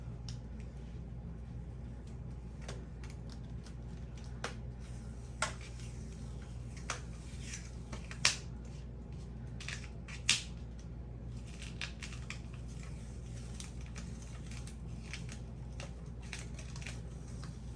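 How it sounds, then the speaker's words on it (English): A thick layer of dried ink peels slowly off a surface, giving faint, sparse crackles and ticks over a quiet background, with a few sharper snaps. "I might be able to peel that like this"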